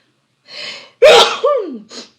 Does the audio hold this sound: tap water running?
no